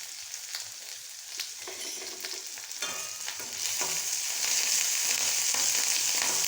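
Onion and coconut being stirred and sautéed in a pan sizzle steadily, with repeated scraping strokes of a spatula, the frying growing a little louder midway.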